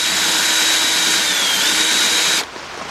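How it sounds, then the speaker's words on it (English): A cordless impact gun driving a 10mm deep quarter-inch drive socket on an extension, during a 3.7 engine rebuild on a 2003 Jeep Liberty Sport, makes a loud, steady, close whir for about two seconds, then cuts off abruptly. "Got my cordless gun right here."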